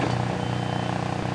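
A truck backing a gooseneck toward a mobile rental boiler sounds steady repeating reversing beeps over a low engine rumble, close and fairly loud throughout.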